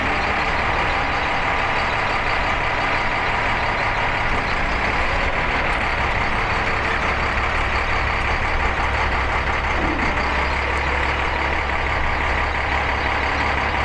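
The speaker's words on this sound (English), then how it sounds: "My commander is actually in the truck, and he's operating the controls right now." A military truck-mounted crane moves a container at a maintenance support site in Ramadi, Iraq, with a steady, loud diesel engine drone and hydraulic whine throughout and faint reversing-style beeps mixed in, with no talk.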